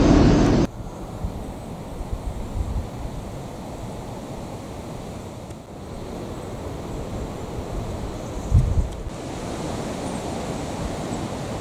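Steady roar of wind and sea on board the Brittany Ferries Britannia sailing from Portsmouth to St Malo, a constant broad rushing wash with a couple of brief louder gusts.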